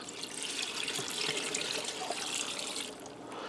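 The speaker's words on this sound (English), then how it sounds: "And I'm going to add in some water. This is 4 cups of water." Four cups of water are poured into a pressure cooker in a steady, close, continuous splashing stream that lasts throughout, with no talking.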